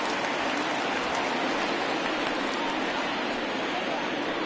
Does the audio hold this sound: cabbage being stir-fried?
no